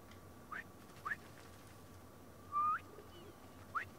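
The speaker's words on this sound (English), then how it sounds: "Try a whistle." Short rising whistles calling pigeons in the video game Spider-Man 2, four brief chirpy tones spread across the clip over a low ambient hiss, with no speech.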